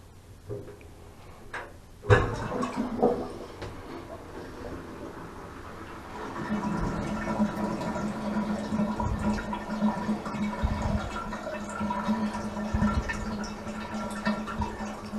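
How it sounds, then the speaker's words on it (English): Water drains slowly from an unstopped bathtub with a chronic slow drain, a steady gurgling and trickling rush building after a brief clunk near the start and continuing without letup throughout. "Now what we're going to do is unstop the bathtub to show you the slow drain."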